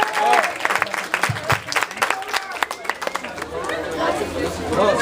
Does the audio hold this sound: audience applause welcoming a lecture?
yes